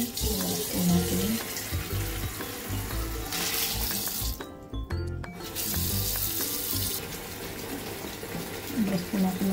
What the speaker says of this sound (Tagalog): ipakita ko muna sa inyo kung paano natin hugasan ang ating crabs